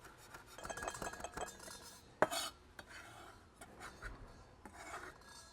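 Rough chopping of lemongrass stalks with a knife on a board, a rasping, scraping run of uneven cuts with one sharper knock partway through, close and fairly quiet with no talking.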